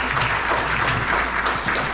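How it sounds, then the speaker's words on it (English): A crowd claps steadily at a public question-and-answer meeting, thick continuous applause from a room full of people, loud and unbroken, with no talking. "Please keep your applause to a minimum"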